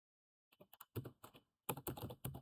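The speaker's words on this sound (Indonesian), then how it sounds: "teman-teman ketik saja print egg train" Keys clack on a computer keyboard in two quick bursts of typing, close and crisp, separated by a brief pause in an otherwise quiet room.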